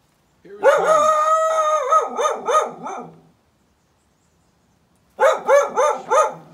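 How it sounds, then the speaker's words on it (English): A neighbour's dog barks loudly and close, opening with a long drawn howling bark that breaks into quick repeated barks, then falls silent before another sharp burst of three barks, with no voices. "she barks at me all day."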